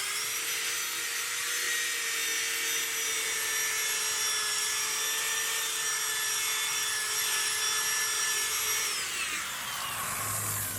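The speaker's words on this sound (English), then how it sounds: "Let's just give it a test on the new drill." A new cordless drill spins an auto-detailing drill brush in a steady high-pitched whine for about nine seconds, then winds down near the end with no talking.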